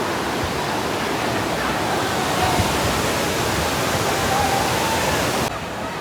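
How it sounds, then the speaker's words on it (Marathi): Water pours down the stepped overflow at Kas lake near Satara, Maharashtra, a dense, loud, unbroken roar close by for six seconds, with faint voices barely emerging beneath it. "पायऱ्यांच्या टप्प्यावरनं पाणी एकदम येतं आहे मागं"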